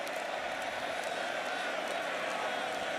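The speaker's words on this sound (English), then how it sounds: "Listen to the crowd here in Montreal" Stadium crowd at a Canadian football game in Montreal, Alouettes hosting the Argonauts, a steady roar of cheering and scattered clapping heard from a distance, with no break.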